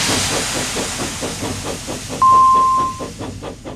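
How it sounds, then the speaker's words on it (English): Steam engine hissing steam in a cartoon railway scene, a rhythmic chuffing hiss that pulses steadily, interrupted by a brief loud whistle toot midway. "Off he sped to his next stop, leaving Toby in a cloud of steam"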